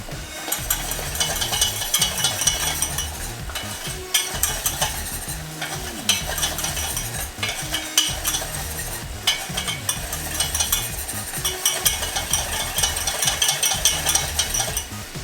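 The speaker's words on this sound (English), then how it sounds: "Making sure to keep stirring this so it doesn't burn on the bottom, because all it is butter and flour" Butter and flour roux being stirred in a pan, a steady scraping and sizzling that runs continuously and fairly close, with no voices over it.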